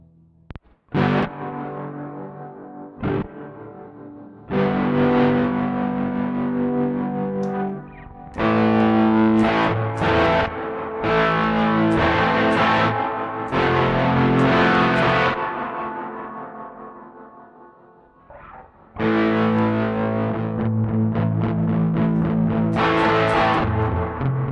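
Electric guitar played through the ANALOGyAMP iOS amp app on its Americana Session preset, a moderately loud effected tone with echo and chorus, strummed chords and picked phrases in several sustained passages with short pauses, no talking.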